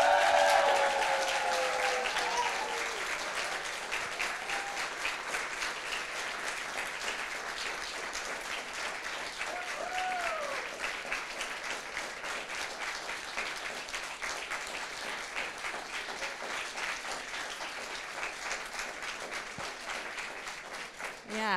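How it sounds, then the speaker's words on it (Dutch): A crowd applauds Anja at a political gathering in Brussels, long sustained clapping from a large audience that starts loud and carries on evenly for about twenty seconds, with some cheering and voices mixed in. "Applaus voor Anja!"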